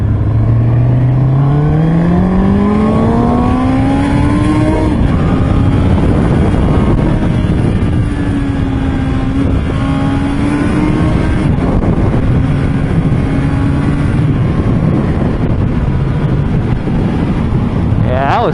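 A Honda CB650R motorcycle engine pulls up through the revs with a rising tone, heard close from the rider's position under heavy wind roar, with a short shift and another steady climb.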